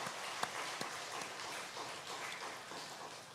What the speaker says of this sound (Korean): 우리 격려하는 마음으로 박수로 우리 장로님을 격려하겠습니다.